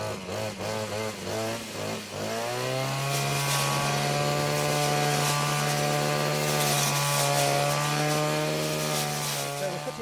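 A small chainsaw on a Cobra MT250C multi-tool pole pruner starts with a few sputtering revs, then settles into a loud, steady high-pitched whine as it runs up close, cutting nettle stems.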